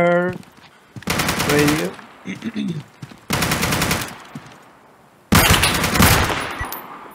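Automatic gunfire in the survival shooter Deadside comes in three long, loud, rapid bursts separated by short pauses, with a voice briefly speaking between them.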